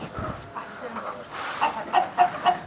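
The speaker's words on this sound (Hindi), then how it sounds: "हम मुर्गे उठा के डाल रहे हैं दूसरे पिंजरे में" Roosters cluck and call in short bursts while being moved between cages at a busy animal market, fairly close and mixed with background chatter.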